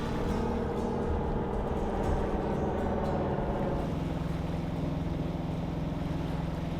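Steady, continuous engine drone of a 30ft sailboat motoring under power through a calm British Columbia channel, a constant low rumble with water rushing alongside, unbroken throughout.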